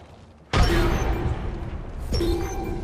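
Frag grenade blast in Apex Legends: a sudden loud broadband boom that rolls on with sustained rumble, followed about a second and a half later by a second burst.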